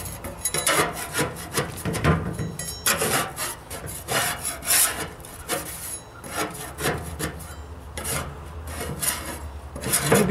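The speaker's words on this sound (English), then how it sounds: "Better stop and sweep that off." A broom sweeps paint debris off a driveway in repeated rough scratchy strokes, close and uneven in rhythm, with no talk.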